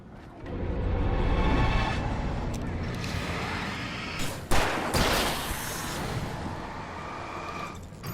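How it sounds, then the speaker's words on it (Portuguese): Pistol gunshot blasts in the video game Alan Wake Remastered, in a noisy, rumbling scene, with a sharp crack about halfway through and steady background noise throughout. "Vou dar um tiro de pistola."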